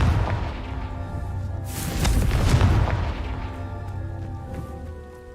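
Confringo blasting spell in Hogwarts Legacy: a deep booming blast that swells midway, with a crackling burst and rumble before a ringing tail fades out, loud and alone without talk.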